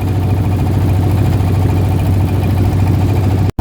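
A trawler boat's engine idles with a loud, steady low throb and a constant rumble close by, briefly cutting out near the end, with no voices.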